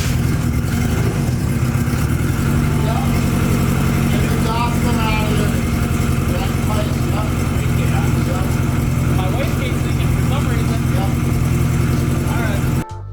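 A turbocharged Honda Civic engine with an exhaust leak runs loudly and steadily throughout at a rough idle, with a voice talking over it before it cuts off abruptly at the end.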